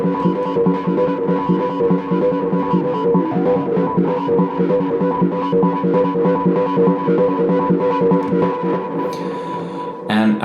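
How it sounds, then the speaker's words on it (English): A sound design rack chain running reverb and distortion, producing a loud, steady throbbing drone with gritty pulsing texture that holds continuously before a brief crunchy burst at the very end. "Then we have distortion, just to make everything more crunchier."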